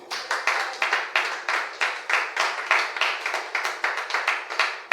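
A church congregation at a night prayer vigil claps rhythmically in acclaim of Jesus, steady even beats about four per second, loud and close with the sound of a full room, no voices over the clapping.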